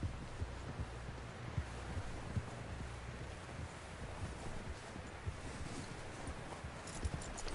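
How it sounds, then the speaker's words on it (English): Horse hooves clip-clop at a steady walking pace in the Red Dead video game, close by and fairly loud, mixed with wind and rustling outdoor ambience throughout. "Someone help John down off this horse"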